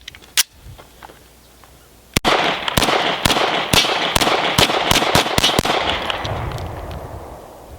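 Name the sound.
Lionheart LH9 pistol firing mixed hollow point rounds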